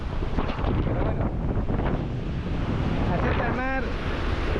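Surf rolls in steadily on the beach at Playa del Carmen, a continuous roar of breaking waves mixed with gusty wind buffeting the microphone, with a brief voice near the end.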